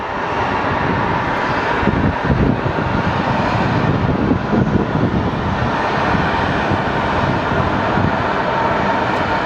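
Jet airliner at Phoenix Sky Harbor Airport taxiing in after landing, a steady loud engine roar with wind noise that holds evenly throughout, no voices.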